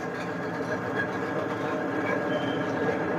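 A long coal conveyor belt runs at the Singareni JVR EPC coal handling plant in Sathupalli, carrying coal toward a railway bunker. It gives a steady, dense mechanical rumble and rattle that holds without a break.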